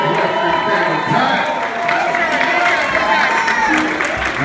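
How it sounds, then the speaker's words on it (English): Applause and cheering from a theater crowd at a live ska concert at the Regent Theater, steady clapping and whoops filling the room under music and a voice. "big, big, big, big round of applause to all these gentlemen up here"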